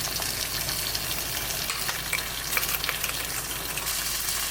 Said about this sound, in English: just gonna heat up a large pan with a bit of sesame oil, and I'll place the tofu strips right on there